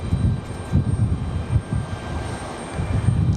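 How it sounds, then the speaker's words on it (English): An American Airlines jet arriving at Raleigh-Durham from Dallas-Fort Worth gives off a low, rumbling engine roar that swells and fades unevenly, moderately loud and heard alone without voices. "This is American Airlines coming in from Dallas"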